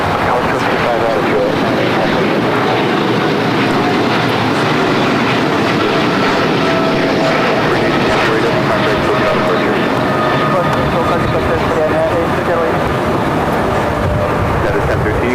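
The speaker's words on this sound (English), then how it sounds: "that was Green Air Cargo Flight 8208 heading to Seoul in the 777 freighter" A Green Air Cargo Boeing 777 freighter taxis at LAX, making a loud, continuous engine roar and rumble under ongoing talk.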